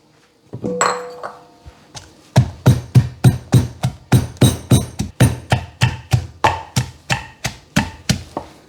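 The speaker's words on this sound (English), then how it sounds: "I'm going to pound the Thai chili and the garlic together." Thai chili and garlic pounded together, a fast regular series of sharp, close pestle thuds, about twenty strikes in quick rhythm after a few scattered knocks, with no talk.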